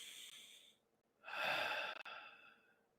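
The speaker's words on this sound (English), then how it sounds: "Take a breath." A single breath comes up close and quiet in calm stillness, a short soft exhale followed by a fuller, longer intake that fades away, with no talk.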